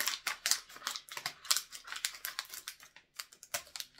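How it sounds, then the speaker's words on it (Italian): Round-tipped scissors snip through a biscuit package in quick, crisp cuts. The rapid run of close, sharp clicks pauses briefly partway through, with no voices. "Forbici dalla punta arrotondata per questo,"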